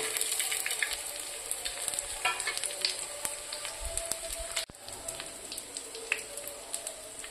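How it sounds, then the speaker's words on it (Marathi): Grated coconut dry-roasting in a pan for an Andhra-style katachi amti, giving a steady soft sizzle and crackle with occasional scraping stirs, close and fairly quiet throughout with no voices. "खोबरं पण तशाच प्रकारे छान भाजून घेऊया."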